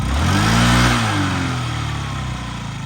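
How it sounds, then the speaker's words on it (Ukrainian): Close Yamaha Jog SA36 fuel-injected scooter engine easing down from a light rev into a smooth, even idle with a soft steady putter. "Рівненько, тихенько, прекрасно працює двигун."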